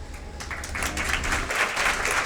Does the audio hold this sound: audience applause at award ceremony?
yes